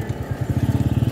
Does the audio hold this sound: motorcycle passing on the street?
yes